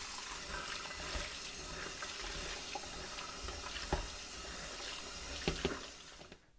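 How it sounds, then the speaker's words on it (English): Cold tap water runs steadily into a sink while hawthorn berries are rinsed beneath it, a close, continuous splashing stream with occasional clicks and knocks that cuts off abruptly at the end. "give the berries a good rinse in cold water."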